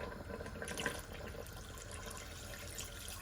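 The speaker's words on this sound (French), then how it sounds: "Et j'ajoute l'équivalent de 400 ml d'eau," Hot water, about 400 ml, poured steadily into a pot over lamb (agneau) and leftover marinade, a continuous close splashing gush running throughout without pause and with no talk over it.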